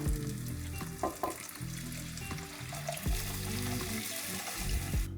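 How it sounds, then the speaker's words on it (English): Tamarind water poured into a hot pan of South Indian fish curry base with coriander, bursting into loud, continuous sizzling and bubbling as it is stirred, close up and without talk. "We'll add in the tamarind water."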